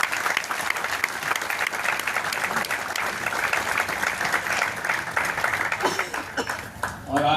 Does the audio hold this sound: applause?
yes